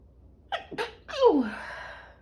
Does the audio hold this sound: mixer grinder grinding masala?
no